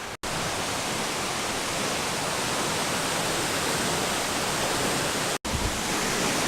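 A tall, big waterfall in Bali roars as a steady, full broadband wash of falling water, loud and constant, with two very brief dropouts.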